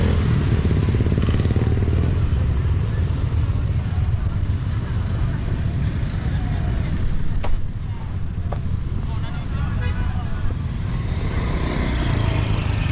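Busy roadside traffic near the Kali Gabus road in Tambun, Bekasi, with motorcycles and cars streaming past in a continuous close rumble, wind buffeting the microphone, and a voice talking over it.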